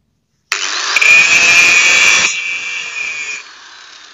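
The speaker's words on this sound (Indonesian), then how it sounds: "Ayo kita praktekkan di gerinda coba" A grinder bites into brass or bronze scrap metal, a loud high-pitched grinding screech that starts abruptly, holds steady, then fades as the wheel winds down.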